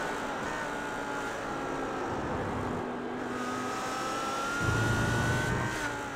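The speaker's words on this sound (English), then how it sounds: "We've got 8 cars in this battle pack at the moment, so quite a big train of cars" A close pack of eight GT racing cars, led by a Team RSO Audi, in an endurance race at Silverstone, engines droning loudly together with rising and falling revs as the train of cars passes, swelling near the end.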